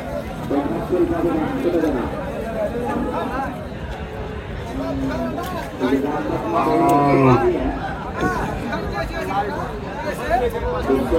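Deshi cows and calves low repeatedly at a busy rural cattle market in Chapainawabganj, loud moos rising over a constant babble of crowd chatter and bargaining voices.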